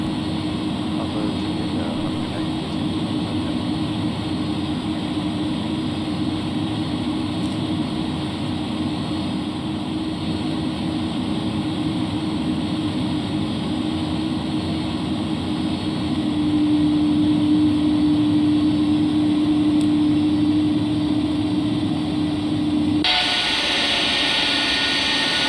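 Airbus A306F cargo jet engines taxiing in a flight simulator: a constant loud jet whine and roar throughout, with a tonal hum rising partway through and the sound changing sharply near the end.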